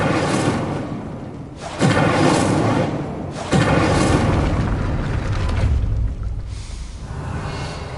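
An Incendio fire spell cast in a Harry Potter video game, two loud whooshing bursts of flame about two seconds apart, each followed by a sustained roaring rumble that fades, with no talking.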